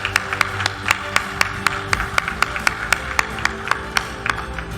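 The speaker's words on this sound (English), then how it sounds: "Please join me in a round of applause." A small audience claps steadily for an award recipient at a bean growers' awards event, sparse distinct hand claps repeating in an even rhythm with no voices over them.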